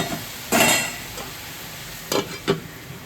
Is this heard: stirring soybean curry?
yes